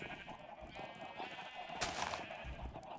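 Minecraft sheep bleating from a pen on a survival-island farm, a few short game bleats close by over a steady background hum, with a sharper burst midway.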